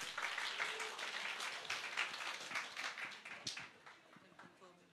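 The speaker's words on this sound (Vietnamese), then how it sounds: "Và một tràng pháo tay dành cho ba vị diễn giả ngày hôm nay ạ." Audience applause at a university talk show on the business analyst profession, greeting three guest speakers: steady, dense clapping from a seated crowd throughout, fairly faint and thinning slightly toward the end.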